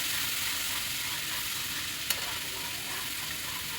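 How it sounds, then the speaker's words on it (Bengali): Spice paste with turmeric is stir-fried in a pan for a vegetarian cauliflower and fenugreek dish, with a loud, even sizzle throughout and one brief utensil clink. "এটা আমি একটু ভালো করে কষিয়ে নিতে হবে মশলাটাকে।"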